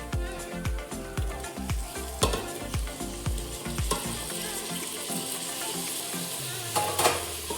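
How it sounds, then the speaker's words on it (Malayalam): Tomatoes sizzling in a pan with garlic and ginger for a Kerala-style beef roast, a steady close frying hiss with rhythmic knocks from stirring against the pan. "ഈ തക്കാളി നന്നായിട്ടൊന്ന് വഴറ്റണം കേട്ടോ"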